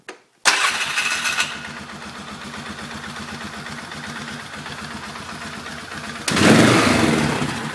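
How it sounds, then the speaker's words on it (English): A Polaris Sportsman 500 ATV engine cranks, catches and settles into a steady rumbling idle, then revs up louder near the end, very close. "Okay, so I'm going to give it a start here."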